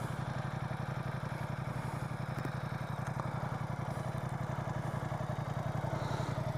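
A motorcycle engine runs steadily, close up and continuous, a dense low rumble with a rapid even firing pulse and some mechanical clatter throughout, no talking.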